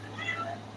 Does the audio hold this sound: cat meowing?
yes